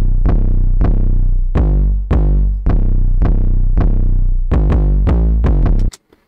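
Distorted 808 bass in a melodic hip-hop beat, hitting literal root notes in a steady pattern of booming, gritty low hits with long tails, loud and alone, cutting off abruptly near the end.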